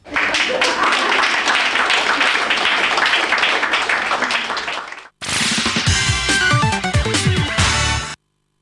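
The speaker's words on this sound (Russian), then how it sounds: "А пока за тренинг актеры получают аплодисменты зрителей" An audience applauding actors after a theater training performance, a dense rolling clatter of many clapping hands for about five seconds, a brief break, then a second burst of applause mixed with voices.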